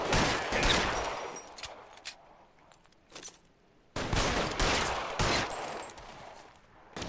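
Several volleys of gunfire crack in L.A. Noire, two dense bursts of close, loud shots separated by a short quiet gap.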